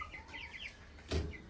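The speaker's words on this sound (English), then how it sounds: "He is a rooster. That one's a rooster." A rooster and chickens on a Wyoming farm give soft clucks and chirpy calls at close range, with a louder burst of noise near the end.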